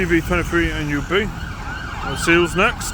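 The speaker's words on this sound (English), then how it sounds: "Excuse the sirens." Emergency vehicle sirens wail loudly in a Leeds city street, rising and falling in repeated sweeping tones, with someone talking over them.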